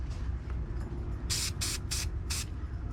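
Four short bursts of a spray can hiss in quick succession, spraying red paint onto a plastic scale model kit part, over a low background rumble, close by.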